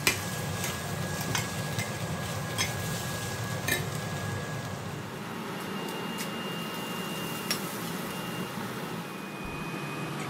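Spices temper in hot oil for Sri Lankan kulaisoru, giving a steady, moderate sizzle with scattered ticks and pops over a constant background hum.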